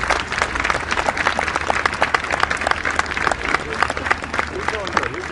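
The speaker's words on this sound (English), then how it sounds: "Everybody give Cobbler a big round of applause." An outdoor crowd applauds at a turkey event with the President. The clapping is loud, dense and sustained for several seconds, with a voice talking over it.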